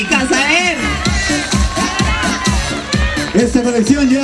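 A crowd claps and cheers at a fashion show, loud and continuous, with a presenter's voice talking over the applause.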